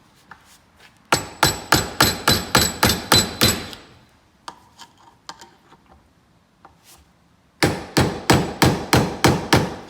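Metal hammer blows drive a bearing out of an ATV axle, delivered as two fast rhythmic runs of about a dozen loud ringing strikes each, with a few scattered lighter taps between them.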